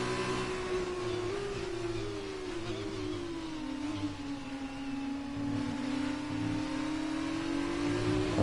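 Formula 2 race car engines in an F2 racing video game at the Canadian GP, a steady high engine drone with gear-change shifts in pitch running throughout, fairly loud and continuous.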